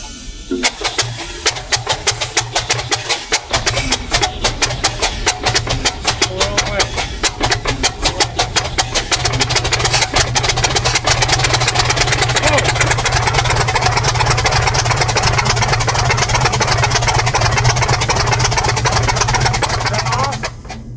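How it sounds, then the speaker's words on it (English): A pump pushes oil into the new engine of a T-62 tank, giving a steady loud mechanical drone that builds slightly halfway through, with voices talking over it. "they're pumping the oil into the engine"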